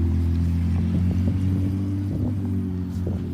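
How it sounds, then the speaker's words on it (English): A loud red truck pulls away with a steady, close engine rumble and low throbbing hum that holds through the whole stretch, no talking over it. "The loud red truck started to drive."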